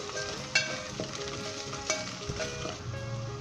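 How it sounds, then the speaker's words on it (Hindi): Spices fry and sizzle in a pan for a potato and pea curry while a spoon stirs them. Steady close sizzling runs under soft background music, with a few sharp scrapes and clinks. "मिक्स कर लें इसे।"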